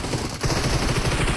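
A quick volley of gunfire from PUBG Mobile, with dense rapid shots rattling close and loud over a short burst, no talking over it.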